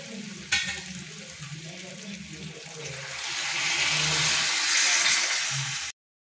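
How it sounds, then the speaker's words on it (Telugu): Water is poured into a pan of drumstick curry after salt and spices. A sharp clink comes first, then a rising rush and hiss of pouring that swells and holds before cutting off abruptly. "సాల్ట్ వేసుకుని వాటర్ వేసుకుందాం."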